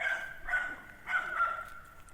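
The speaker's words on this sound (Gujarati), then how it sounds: "આના ગલુડિયા, એના ગલુડિયા ભો વધારે કરે છે અત્યારે." Dogs and puppies bark at night in a dark village lane, a few faint, distant yelps and barks coming in short bursts with quiet pauses between them.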